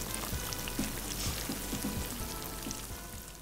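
Starch-coated pork back ribs deep-fry in hot oil, giving a quiet, continuous sizzle dotted with small pops and crackles throughout.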